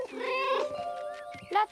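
A pet cat named Lotti meows close by in a drawn-out, wavering call and then gives a short second meow, with no talk over it.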